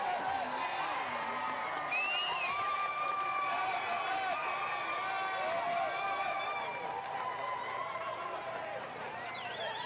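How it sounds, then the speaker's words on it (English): At a football match between C.D. Walter Ferretti and Belmopan Bandits, the crowd applauds steadily as injured player Marcos Mendes is carried off. Spread-out clapping and cheering from the stands continue under voices and whistle-like tones. "crowd here giving him a nice round of applause"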